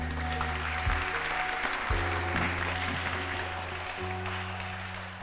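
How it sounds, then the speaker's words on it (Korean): Audience members clap steadily after a lecture by Professor Park Won-gon, a continuous dense wash of applause over several seconds with a low sustained musical tone underneath. "다시 한번 큰 박수 부탁드립니다"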